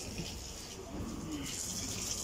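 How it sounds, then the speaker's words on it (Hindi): Water runs steadily from a tap in a microbiology lab as someone washes their face, a continuous close splashing rush with no voices. "डेली आ गए इधर मुँह धोते हैं।"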